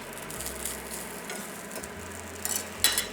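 Soy sauce noodles sear in a hot pan with a soft, steady sizzle, and a few louder scraping stirs come near the end.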